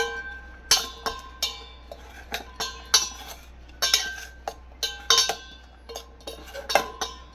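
A spoon mixes ragi flour batter with chili powder and salt in a bowl, giving repeated irregular metal clinks and scrapes at close range.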